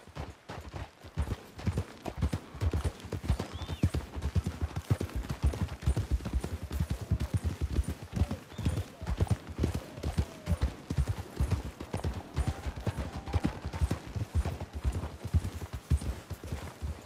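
Horse hooves clip-clopping at a steady walking pace, several animals together, close and continuous with a faint ambient backdrop, in the video game Red Dead Redemption 2.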